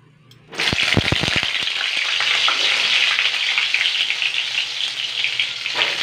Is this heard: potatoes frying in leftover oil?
yes